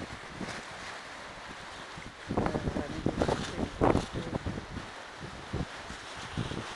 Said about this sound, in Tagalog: Ayan, napakahangin. Sobrang hangin.